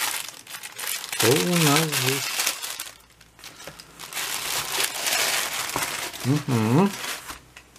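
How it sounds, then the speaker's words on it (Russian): A parcel package is unwrapped and opened, plastic wrapping crinkling and rustling in close bursts while a person talks over the handling. "Шла посылочка долго. Но сейчас мы ее откроем и посмотрим."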